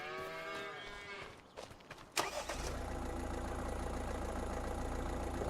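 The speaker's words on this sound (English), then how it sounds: "More cows that you don't own." Several cows moo in Farming Simulator 25, with long drawn-out calls first, and then a tractor engine cranks and starts and settles into a loud steady idle that fills the rest.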